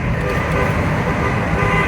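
A car horn sounds inside a curvy road tunnel over loud, close rumbling traffic noise, with voices heard along with it.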